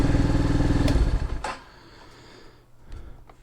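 A 2023 Hawk X 250 motorcycle with a new clutch runs loud and close for about a second and a half, then drops to a low rumble with a few faint mechanical clicks while the rider hunts for neutral.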